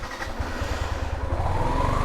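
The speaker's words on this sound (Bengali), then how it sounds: "বাইকের একটা জার্নি শুরু করলাম" A motorcycle engine runs steadily at close range as a ride begins on rain-soaked roads after a cyclone in Sherpur, with a low, pulsing throb that holds for the whole two seconds and no voices over it.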